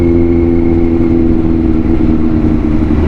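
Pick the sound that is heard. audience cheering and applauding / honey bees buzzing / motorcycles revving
motorcycles revving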